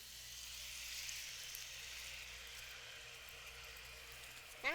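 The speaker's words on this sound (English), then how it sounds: "Yeah, the nice sizzle. And nice butter. All right, you can see it bubbling." A brown sugar, butter and rum mixture sizzling over bananas in a pan, making a soft, steady frying hiss that continues evenly with a faint bubbling underneath.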